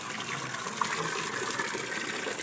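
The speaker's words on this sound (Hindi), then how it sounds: "इधर देखें जनाब चश्मे का पानी आ रहा है" Cold spring water pours steadily from a free-flowing pipe in the Neelum Valley, Azad Kashmir, a continuous close gushing splash with no voices.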